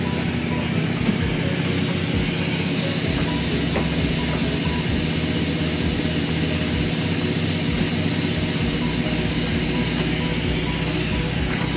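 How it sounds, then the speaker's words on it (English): A steam engine driving roller mill shafts runs continuously with a dense, steady hiss and low mechanical rumble, loud and close, with no voices. "let them see the steam engine run."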